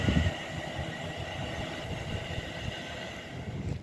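Class 350 electric multiple unit passing at Rugby station, a low steady rumble of wheels and traction hum at moderate distance, with a brief louder thump at the start and rising at the end, no talking.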